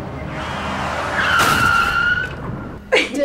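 A Rolls Royce skids with a long, rising tire squeal lasting over a second before hitting a pedestrian, followed by a short sharp burst near the end; faint background noise throughout.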